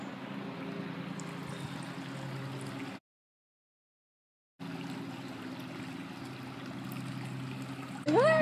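Stream water flowing steadily through a creek, a continuous close wash of noise that cuts out briefly to silence and then resumes, with a faint high tone near the end.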